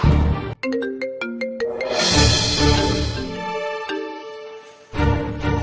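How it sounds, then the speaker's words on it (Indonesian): A phone rings while a woman places a call: a bright synthesized ringtone melody of quick repeated notes plays loudly and close, with a brief pause before the tune resumes near the end. "Aku harus telepon Mas Bimo."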